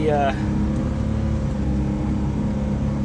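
Suzuki Carry mini truck fitted with tracks pushes snow with its bumper, the engine droning steadily at mid pitch after a brief rising whine at the start, with someone talking over it.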